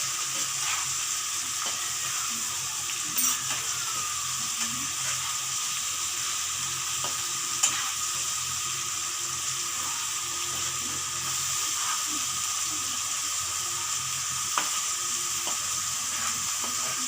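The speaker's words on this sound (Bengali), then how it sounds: "এখানে খুব ভালো করে ভাজা হচ্ছে এগুলা" Garlic and ginger paste fries in a pan for a chicken roast gravy, giving a steady close sizzling hiss with occasional light clicks of a spoon stirring.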